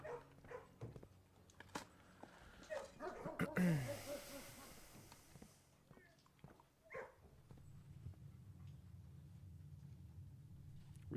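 Dogs bark and whimper in a kennel room in the video game Blue Prince, with a few scattered faint barks and a brief louder burst over low background ambience.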